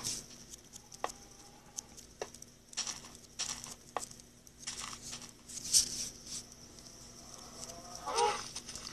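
A cow lowing in the mobile game Minecraft Pocket Edition, a few soft moos rising over faint clicks and game ambience, with no one speaking.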